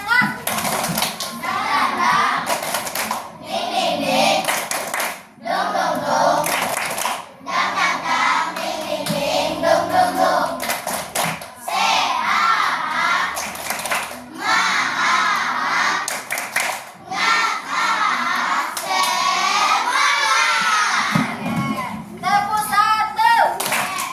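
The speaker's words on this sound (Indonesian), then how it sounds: "Kita tepuk dulu ya. Tepuk semangat." Schoolchildren in a classroom perform a rhythmic clapping chant, bursts of hand claps alternating with group chanting and a teacher's voice leading the pattern.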